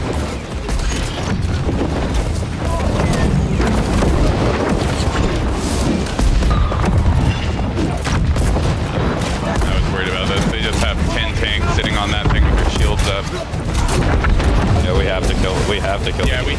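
Musket and gunfire in a large New World battle, with dense, continuous bursts of booming shots and clashes throughout, while people talk over the din.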